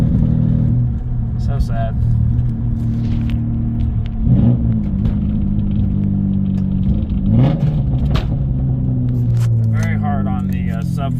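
Straight-piped green V6 car with a 5-speed and worn motor mounts idles with a loud, steady low rumble, swelling in two brief revs, while a person talks over it.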